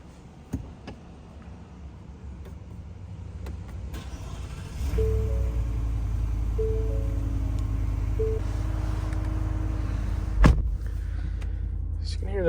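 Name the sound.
2023 Ford F-150 V8 engine running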